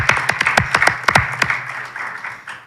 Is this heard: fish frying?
no